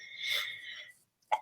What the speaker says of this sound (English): You can't help the sneeze.